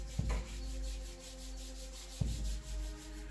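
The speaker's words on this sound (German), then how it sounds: "wir werden das Qi, die Energie, jetzt aktivieren, indem wir unsere Handflächen aneinander reiben" Palms rubbing briskly together during a qi gong relaxation exercise, a steady soft friction swish with two brief louder bumps, close and alone with no talk.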